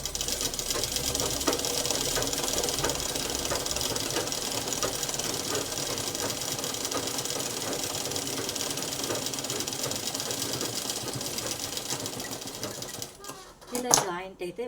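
Sewing machine stitching a joint on a crop top, running steadily and loudly with a fast rhythmic chatter for about thirteen seconds before stopping, with a few brief clicks at the end.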